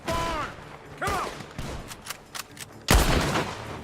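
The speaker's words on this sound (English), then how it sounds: "Gunshots are coming from that barn." Gunfire rings out from a barn in Red Dead Redemption 2: a few sharp, loud bursts with a heavy volley near the end, mixed with other in-game sounds.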